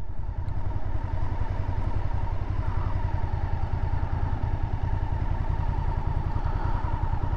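A 1998 Honda VTR SuperHawk V-twin sits warmed up at idle around 1100–1200 rpm, a loud, close, steady low thumping pulse with mechanical clatter, unbroken for the whole stretch.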